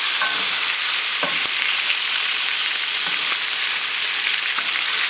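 A chicken leg, scored with cuts, sizzles and crackles steadily in hot oil in a frying pan, with a bright continuous hiss and occasional sharp pops and spatters close by.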